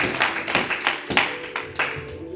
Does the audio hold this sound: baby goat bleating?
no